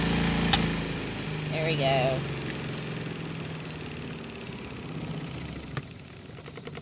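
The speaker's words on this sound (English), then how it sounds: "This is about to finish spinning." A portable washing machine, running off-grid on solar power and loaded with jeans and towels, winds down at the end of its spin cycle with a steady low motor hum and vibration, while a person speaks briefly over it.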